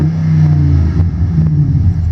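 A 2005 Dodge Ram 1500 SLT pickup with a modified V8 idles loud and close with a deep, steady rumble, two brief blips of throttle rising out of it, and no one talking.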